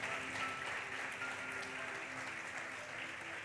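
Congregation in a church giving steady, continuous applause, fairly dense and even throughout with a faint background hum.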